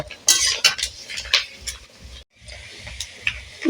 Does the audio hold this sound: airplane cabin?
no